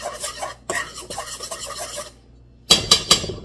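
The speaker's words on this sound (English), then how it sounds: "I'm just going to give this a little mix with my knife here just to get the sugar" A knife stirs flour, sugar and salt together on a plate for homemade hamburger buns, making close, dry gritty scraping strokes in a steady rhythm, then a short pause and a few louder scrapes.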